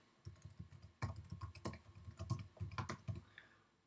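Quick bursts of typing on a computer keyboard, close and fairly quiet, with uneven clusters of key clicks and short pauses.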